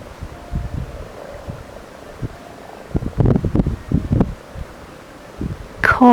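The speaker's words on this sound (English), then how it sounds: "Chorus of frogs." A chorus of frogs croaking at night outdoors, with overlapping low pulsing calls of varying loudness clustering in the middle, and a brief higher chirp near the end.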